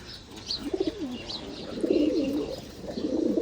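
Caged pigeons, some with watery eyes, coo in the morning in a series of soft, rolling calls close by, with little else heard.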